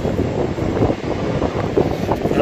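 Strong wind buffets the microphone outdoors, a loud continuous rumbling roar with gusty fluctuations throughout and no other sounds standing out.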